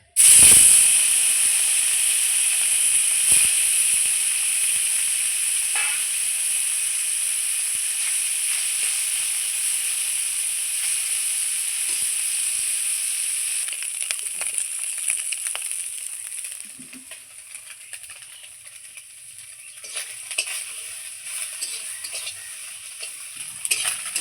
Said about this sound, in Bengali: আমি ওই তেলেই বাদবাকি মাছগুলোও ছেড়ে দেবো।